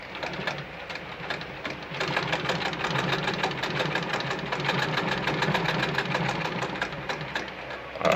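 Singer model 55 sewing machine stitching through eight layers of denim, a fast, even mechanical chatter running steadily for most of the clip after a softer start.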